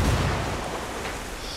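A frag grenade goes off in Ghost Recon Wildlands during a coca farm mission, a single loud booming blast that rolls into a fading rumble, with no voices.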